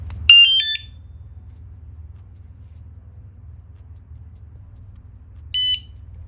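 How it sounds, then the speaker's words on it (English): A bike alarm system fitted to an EB5 chirps as it is armed: a quick cluster of shrill electronic beeps, then a second short burst several seconds later, over a steady low hum with no talking. "So now the alarm is activated."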